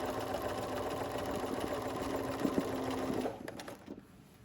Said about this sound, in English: I'm going to sew it all the way down